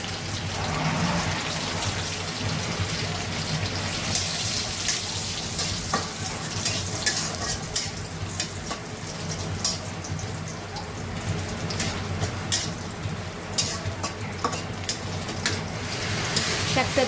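Leafy greens (shak) sizzle and crackle steadily in hot oil, a dense close frying hiss with occasional sharp pops and stirring scrapes throughout.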